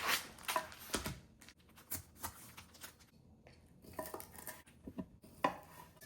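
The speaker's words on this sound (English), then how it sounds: "the last thing we need to do is cut up some sausage" A knife cutting up sausage on a cutting board, with faint, irregular taps and clicks of the blade striking the board and soft handling sounds in a quiet kitchen.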